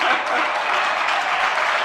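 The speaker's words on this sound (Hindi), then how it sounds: "देखो जम की तालियां बजाएंगे।" An audience in a Hindi-speaking gathering breaks into brisk, full clapping, a dense continuous roar of hands that stays loud and even throughout the short burst.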